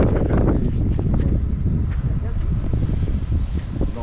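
Steady gusty cold wind buffeting the microphone, a constant rushing roar with faint voices underneath.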